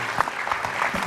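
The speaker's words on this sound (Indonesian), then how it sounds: "Tepuk tangan loh. untuk mereka bertiga." A studio audience at an Indonesian television talk show applauds, a short burst of dense, even clapping with no voices over it.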